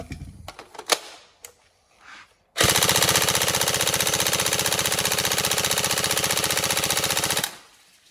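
An upgraded Tokyo Marui SCAR-H NGRS airsoft electric rifle fires one long full-auto burst of about five seconds, a loud, rapid buzzing rattle that stops abruptly, preceded by a few faint handling clicks.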